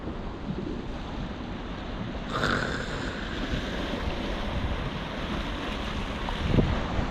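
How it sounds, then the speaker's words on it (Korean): Sea water washing in along a quiet West Sea harbor shore near a campsite, a steady broad wash of waves with wind noise across the microphone and a slight surge toward the end, no talking. "바닷물이 이렇게 멋지게 들어오니까"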